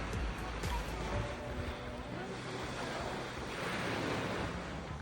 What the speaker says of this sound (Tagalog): Nagkataon lang na medyo malakas ang hangin at masama ang panahon.